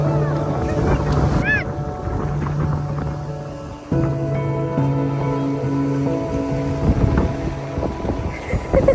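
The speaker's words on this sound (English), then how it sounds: "Look at the boat, Zara." A boat passes off Carrum Beach, its engine droning steadily under wind noise and lapping water, with people talking nearby.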